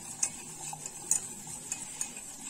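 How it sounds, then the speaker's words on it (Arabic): Sesame, flour and ghee being stirred hard in a pan, soft scraping and light clinks of a utensil against metal in an uneven rhythm, quiet and close with no talk. "هنقلب قوي كده السمسم مع الدقيق مع السمنه كده"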